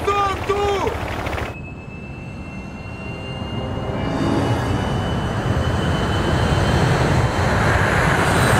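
Aircraft engine in the video game Fighters: Last Battle, a steady loud broadband roar that swells after a short burst of speech at the start and continues throughout.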